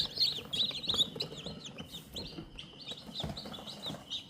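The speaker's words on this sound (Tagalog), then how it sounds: "1 day old na Rhode Island Red." One-day-old Rhode Island Red chicks chirp in a busy, high-pitched chorus of quick overlapping peeps, fairly close, over soft rustling and shuffling in their enclosure.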